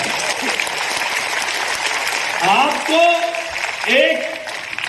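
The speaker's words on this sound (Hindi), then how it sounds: "ताली भी कम बजा रहे उसकी" Audience applause at a Delhi traders' event in a large hall, a steady wash of clapping running through the clip beneath a voice speaking over it in bursts.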